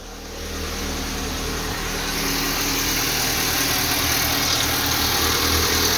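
A Geely CK car engine with a failed head gasket and low compression in two cylinders idles steadily nearby, a constant low rumble with a slight rise in level partway through, with no talking.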